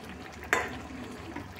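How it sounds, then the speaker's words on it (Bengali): A Bengali fish curry with poppy seeds and cauliflower simmering in a pan, a soft steady bubbling hiss with one brief clatter near the start. "একটু ফুটুক, অনেকটাই ফুটে উঠেছে"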